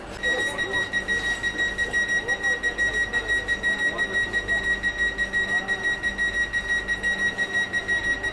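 The automatic door of a Vande Bharat train on the Bengaluru to Dharwad route sounds its closing warning: a steady, rapidly pulsing electronic beep that repeats evenly throughout, with voices talking faintly underneath.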